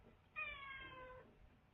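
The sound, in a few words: cat meowing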